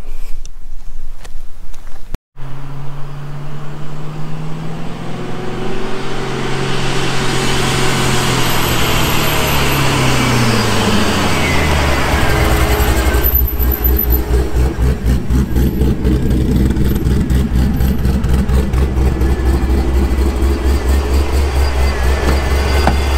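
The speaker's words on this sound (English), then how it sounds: "Hearing that charger spool was sick, man." A supercharged 900 hp HSV street car runs loud and close, its engine droning while a rising whine climbs as it revs and the blower spools, then settles into a steady heavy rumble.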